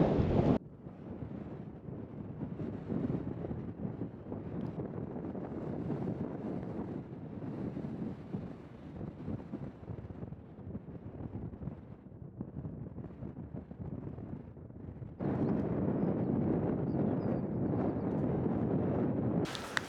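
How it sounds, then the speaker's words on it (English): Cold wind gusts across an exposed hilltop on Mallerstang Edge in the Yorkshire Dales, roaring steadily and buffeting the microphone close up, growing louder for the last few seconds, with no voices. "It's very windy and there's a dampness."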